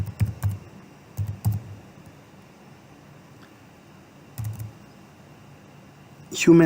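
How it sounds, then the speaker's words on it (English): Computer keys are typed in short, close bursts of clicks separated by pauses, ending in a louder rattle of keystrokes, with no talking heard. "Let's type it again."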